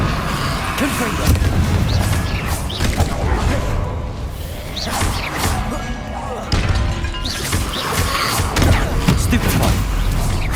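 In Hogwarts Legacy, Confringo blasting spells fire against Inferi in a dense run of booming blasts, crashes and whooshes over about ten seconds, with a voice shouting spell names among the impacts.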